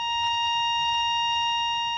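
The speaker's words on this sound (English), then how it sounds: "I've heard stories of children actually sleeping through fire detector alarms" Smoke detector alarm sounding with a steady, piercing electronic tone held continuously at loud level, faint room sounds underneath and no talking.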